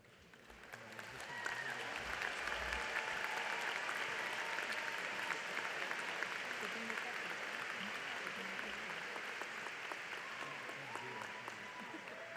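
Steady applause from a large audience at a university commencement ceremony, building quickly and holding as a dense, even clapping wash for over ten seconds.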